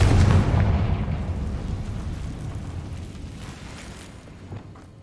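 The Confringo spell in Hogwarts Legacy sets off a loud, deep explosion whose rumbling boom opens at full strength. It fades steadily over several seconds into a crackling, debris-like tail.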